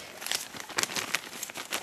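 A plastic sealable bag holding messy charcoal discs crinkles close by in quick irregular bursts of crackly rustling, some sharp and some soft, with no talk over them.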